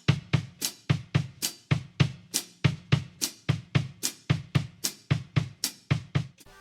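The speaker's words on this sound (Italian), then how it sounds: "Sposta le ghost note, quindi tutti i colpi con la sinistra, li suona con la cassa, mantenendo però sempre quegli accenti col rullante" Drum kit playing a 12/8 groove with the ghost notes shifted onto the bass drum while accented snare hits remain, a steady dense rhythm of low kicks and sharp snare and cymbal strikes, close and alone without talk.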